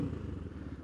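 A Tianda TDR300 dirt bike engine idling close by, a low, even, pulsing putter through a brief moment.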